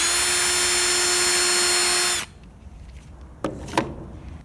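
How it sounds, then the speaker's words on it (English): A power drill whines steadily at high pitch for about two seconds, drilling into wood with a nail used as the bit, then stops, followed by a couple of faint scraping knocks. "we need to drill a hole with this nail right in the end"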